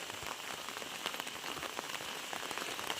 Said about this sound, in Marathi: अचानक हा पाऊस चालू झालाय काल जरा कमी होता